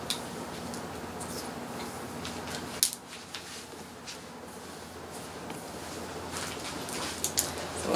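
Hairdressing shears point cutting into dry hair in a salon, light crisp snips scattered over a soft background hiss, with a sharper click near the middle and a few more toward the end, close and fairly quiet.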